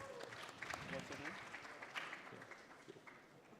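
A team joins in with remote applause over a Zoom call during a hackathon closing ceremony, a soft, thin patter of clapping through a laptop connection that continues for a few seconds with some voices underneath.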